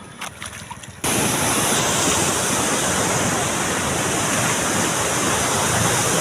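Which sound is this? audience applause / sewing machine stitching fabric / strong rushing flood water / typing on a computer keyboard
strong rushing flood water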